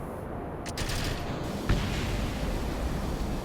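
An explosion during a Falcon Heavy rocket flight in the video game Kerbal Space Program, a broad rumbling blast with a sharp crack partway through over a continuous roar of noise.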